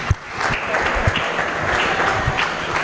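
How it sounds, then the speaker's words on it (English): Audience applause fills a senior showmanship announcement at a dairy goat show, a steady dense wash of clapping from a crowd that holds at a fairly loud, even level throughout with no talk over it. "Give them a round of applause."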